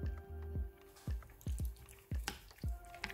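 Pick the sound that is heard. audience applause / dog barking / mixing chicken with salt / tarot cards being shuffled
mixing chicken with salt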